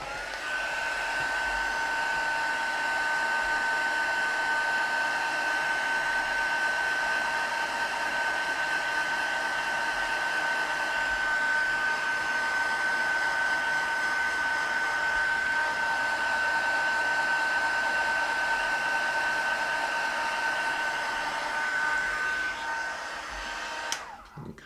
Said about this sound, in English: you can use your heat tool and just heat set that a little bit more